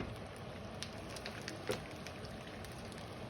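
Faint crackling and popping of food frying in a pan for a quick Mexican breakfast, steady soft sizzle with scattered small pops.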